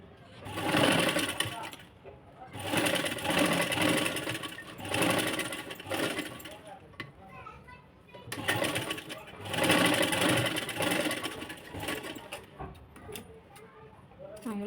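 A sewing machine runs in bursts while stitching a sleeveless princess-cut blouse, loud rapid mechanical chatter starting and stopping several times, with someone talking in between and over the pauses.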